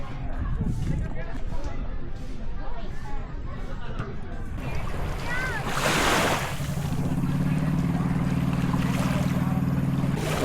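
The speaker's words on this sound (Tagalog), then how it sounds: "My own private boat." Wind and sea noise rush past a moving boat off Zamboanga City, with splashing water and a steady engine hum joining later; someone talks over it.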